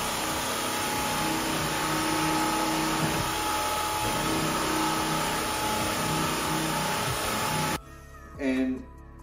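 A Bissell Crosswave wet-dry floor cleaner runs over a hardwood floor with a spill and scattered flour, giving a steady, loud motor whir with a thin high whine that cuts off near the end, followed by a brief faint noise.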